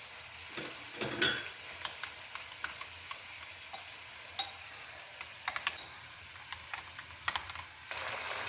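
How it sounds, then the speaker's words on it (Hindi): Chicken pieces fry with green chillies in a karahi, a soft steady sizzle broken by scattered clicks and scrapes of stirring, close by with no one talking. "दो मिनट हमने इसको हरी मिर्चों के साथ भून लिया है।"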